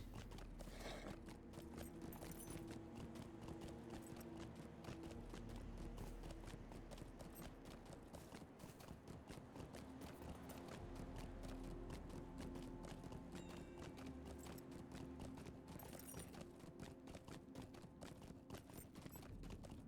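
Horse hooves clip-clop at a steady walking rhythm while riding in the Lord of the Rings Online game, Shadows of Angmar. The hoofbeats stay close and prominent for the whole stretch, with faint mechanical clatter around them.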